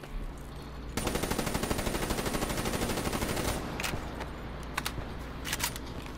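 Sustained rapid automatic gunfire from Call of Duty 3 fills the scene, a dense, loud machine-gun burst running several seconds before tapering into scattered, sharper single shots.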